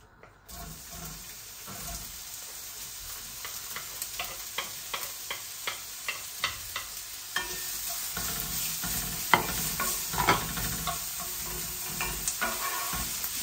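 Chopped onion goes into oil in a pan and is stirred, making a soft sizzle that builds, with a regular series of scraping, tapping spoon strokes against the pan, fairly quiet and close, with no talking.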